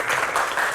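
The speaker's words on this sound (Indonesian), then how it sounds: "Kita tepuk tangan bersama dong untuk dua rekan kita." Steady audience applause fills the space at a talk-show event presenting actors from a horror film, a dense wash of many hands clapping continuously at moderate volume with no break.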